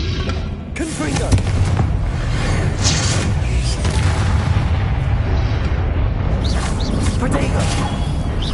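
Repeated Confringo fire-blast spells in Hogwarts Legacy land as loud booming explosions and crackling bursts amid constant combat noise, with a voice shouting spell names over the din.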